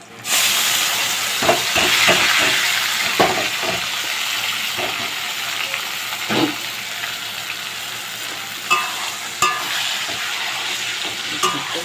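Taro greens are tossed into a hot pan and stirred, giving a steady close sizzle and hiss with repeated scraping and clattering stir strokes throughout, no talk.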